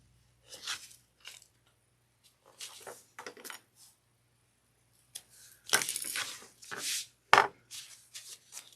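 Double-sided tape being handled and pressed onto a bag zipper, heard as scattered short crinkling and tapping bursts, one louder sharp snap near the end, with quiet gaps between.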